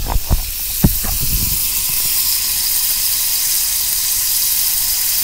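Cauliflower mushroom sizzles in butter in a pan, a loud, steady hiss that follows a few brief knocks and clatters at the start, then holds evenly to the end.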